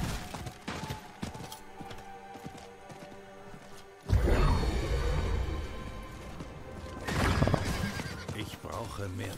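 Horse neighing and stamping in the video game Diablo IV: a loud whinny and heavy thuds cut in halfway through, over game music and someone talking.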